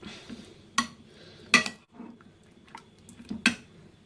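Eggs being mixed for a plantain frittata, heard as a few sharp utensil clinks against a bowl spaced about a second apart, with softer stirring and squishing in between.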